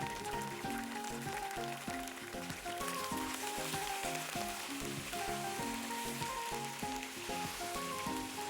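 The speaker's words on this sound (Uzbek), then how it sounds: "Endi qozonimizga 200 ml yog'ni solib, yaxshilab qizdirib, tovuq qanatchalarini qovurishni boshlaymiz." Chicken wings frying in about 200 ml of hot oil in a kazan pot, giving a steady close sizzle with dense crackling pops throughout and no talk.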